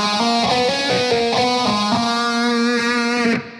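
A distorted electric guitar plays the Van Halen On Fire riff pattern, a run of rapid picked notes with a strong buzzing, harmonic-rich tone, steady and loud, ending with a sudden drop after about three seconds.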